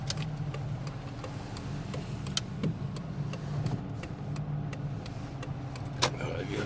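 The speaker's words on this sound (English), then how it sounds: "So now I came over here to the car wash." A busy car wash with cars and running engines keeps up a low rumble, broken by scattered sharp ticks and clicks and a couple of louder knocks. No one speaks.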